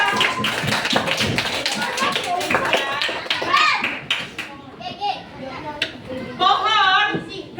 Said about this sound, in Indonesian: Benar, tepuk tangan dong.